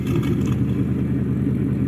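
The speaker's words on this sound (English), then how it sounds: "So we're gonna go start the car up here in the back." A sports car in the Greenville driving game idles with a low, steady engine rumble, close and constant with no voices.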